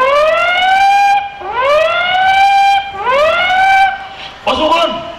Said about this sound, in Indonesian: Terdengar alarm meraung-raung.